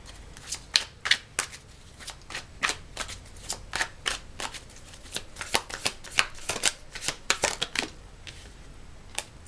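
Tarot cards being shuffled and dealt by hand during a pick-a-card reading, a busy run of quick crisp riffling snaps and flicks, close and fairly loud, with no talking.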